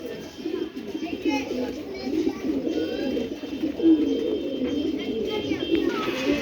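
Big Pakistani Kaldom pigeons coo continuously in low, rolling calls close by, with a person talking over them throughout.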